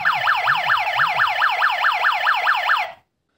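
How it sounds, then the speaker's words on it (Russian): A portable gas detector's alarm, triggered by low oxygen, wails in rapid repeating up-and-down sweeps, loud and close, for about three seconds before cutting off into silence. "Уровень кислорода опустился и сработала сигнализация."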